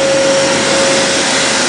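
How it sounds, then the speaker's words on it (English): A vacuum cleaner roars loud and close in a workshop, a steady broadband whine with a constant tone and no pauses. "Get this vacuum shut down."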